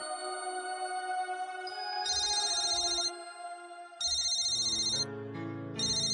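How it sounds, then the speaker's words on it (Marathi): A mobile phone ringtone plays a looping electronic melody, loud and close, repeating in short bursts with no one speaking. "माझ्या बहिणीचा फोन आहे, घेऊ का मी?"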